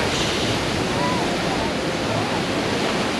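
The Jurassic Park water ride car at Islands of Adventure, Universal Orlando, splashes down after a 60-foot drop, producing a continuous loud rushing wash of water heard from a viewing area, with faint voices in the background.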